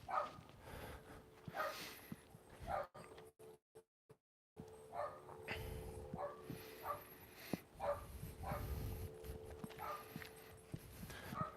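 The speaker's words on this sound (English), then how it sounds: "now that dog is coming this way" A dog barking nearby outdoors, scattered short barks mixed with clopping footsteps and light background noise, fairly quiet overall with a brief gap of near silence.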